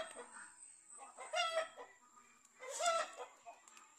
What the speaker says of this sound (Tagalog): Yan ang isang inahin ko naglilimlim, native chicken